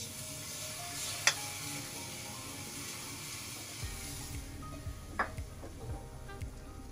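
Hot tadka tempering is poured over potato raita and gives a faint, steady sizzle and crackle, with a couple of brief clinks and soft stirring sounds over quiet kitchen hum.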